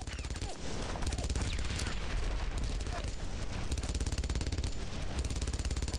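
German machine gun in the World War II video game Brothers in Arms: Road to Hill 30, firing sustained rapid automatic bursts that form a dense continuous rattle, loud and unbroken, with a voice talking over it.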